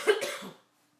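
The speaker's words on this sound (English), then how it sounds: "Excuse me, I need to cough again." A single short, close cough followed by silence.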